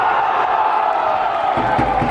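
A stadium crowd in a football video game roaring after a goal in a Tercera División match, Móstoles v Pozuelo Alarcón: a loud, continuous wash of cheering that holds steady, with deeper thumps rising near the end.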